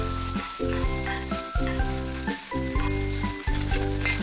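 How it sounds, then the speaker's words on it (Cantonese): Cubes of beef tenderloin sear in a smoking-hot wok for black pepper beef, a constant hissing sizzle heard under prominent rhythmic background music. "我哋將我哋嘅牛柳粒咧就可以放落去啦"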